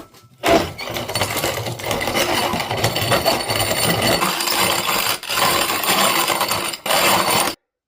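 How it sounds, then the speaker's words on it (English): A corn grinder crushing dry clay into grog, a steady coarse grinding and crunching rattle that runs loud and close for about seven seconds with a brief pause near the end, no voices. "I'm fortunate enough to have a corn grinder, and that should make fairly short work of it."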